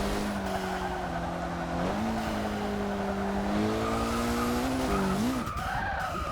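A 2006 Mitsubishi Lancer Evo IX MR in Forza 6 locks its brakes during league racing, and a long steady tire squeal rides over the engine drone, shifting pitch near the end, loud and continuous with no talking.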